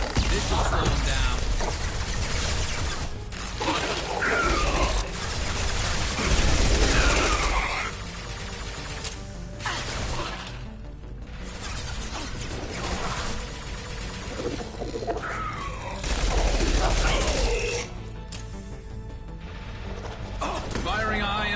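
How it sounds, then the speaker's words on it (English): High-impact shots fire in Mass Effect Legendary Edition (Mass Effect 2), heard as repeated heavy, mechanical gunfire bursts spread through a long stretch of dense combat noise, loud and close throughout. "Firing a high-impact shot."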